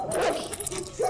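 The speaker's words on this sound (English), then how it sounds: "I got immediately assaulted by the horrific sound of dogs" Dogs bark harshly in the horror game Fear and Hunger, a couple of loud, close, distorted barks and yelps packed into a single second.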